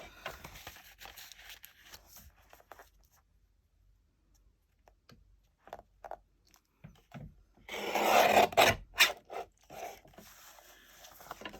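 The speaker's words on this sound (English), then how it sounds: "And then I'm going to trim this side." Paper envelope folio for a junk journal gets its side trimmed, soft rustling and scraping that builds into a louder stretch of crisp cutting and crinkling paper near the end, close up and without talk.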